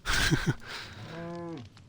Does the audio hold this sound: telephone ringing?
no